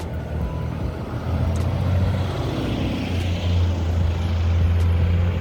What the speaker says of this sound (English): There's a freaking bus, bro.